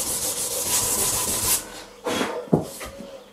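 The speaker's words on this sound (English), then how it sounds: "hand sanding." Wood sanded by hand, heard as close rhythmic rasping strokes that start in a quick run and then slow to a few separate, heavier scrapes.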